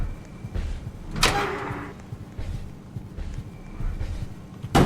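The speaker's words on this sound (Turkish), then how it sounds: "Kapıyı yüzüne kapattım." A door is shut in someone's face in a video game, a single sharp thud standing out over steady low rumbling background noise.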